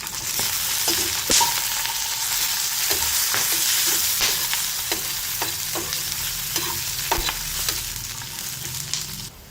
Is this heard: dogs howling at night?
no